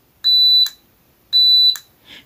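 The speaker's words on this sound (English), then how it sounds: "you get a low resistance in the multimeter or you hear a buzzer, means the switch is good" A multimeter's continuity buzzer sounds as a good switch on a tablet motherboard is tested, giving two loud, clean, high-pitched beeps about a second apart, each lasting under half a second.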